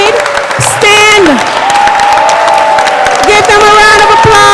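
Audience applause and some cheering at a sickle cell disease event, steady clapping throughout with a voice speaking over it near the start and end.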